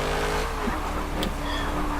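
Race car in Forza 7 at Virginia Raceway, engine whine and tire noise through a corner, a short continuous burst with a brief squeal.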